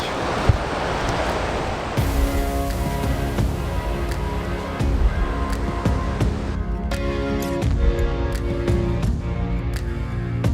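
Surf rolls onto an Oregon coast beach beside an RV park as a steady, loud wash of breaking waves mixed with wind, with a faint engine hum underneath.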